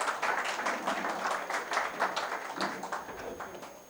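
An audience at a college poetry event claps steadily, a fairly soft, even wash of many hands that tapers off toward the end.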